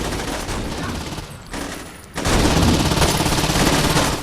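Gunfire in the video game Saints Row 2, a dense, loud burst of rapid shots that drops briefly, then returns as sustained heavy firing through the rest of the clip.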